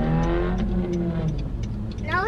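A Honda car engine revs loudly and close by as it passes, a steady throaty roar with a rising whine at the end.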